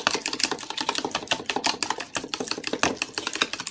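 Eggs are beaten briskly in a bowl to mix yolks and whites, giving a rapid, steady series of close clicking and tapping strokes with no talk.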